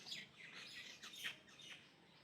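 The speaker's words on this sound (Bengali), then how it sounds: "চারপাশে পাখি ডাকতেছে।" Birds chirping in the morning countryside among guava and tamarind trees, a quick series of faint, distant tweets and rising calls over quiet air.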